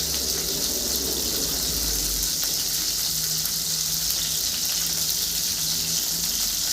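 Fish, Bangladeshi tengra, frying in oil gives a steady, dense sizzle that holds loud and even throughout, with a faint low hum under it.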